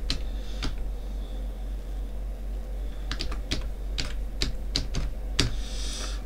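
Typing a server name on a computer keyboard while setting up a Debian server: scattered clicky keystrokes in short bursts over a steady low hum, close and fairly quiet.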